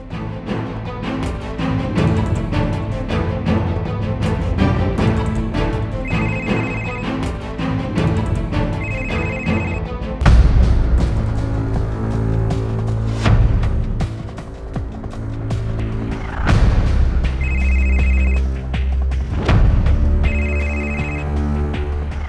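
A telephone rings in short repeated bursts, spaced apart, over loud, dramatic background music.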